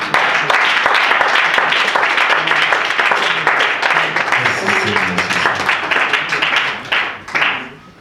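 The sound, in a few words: congregation applauding in church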